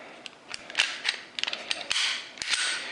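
Pistol trigger and sear mechanism after a forward-set sear and trigger install, clicking and snapping in a series of sharp close metallic clicks at irregular intervals, with no talking.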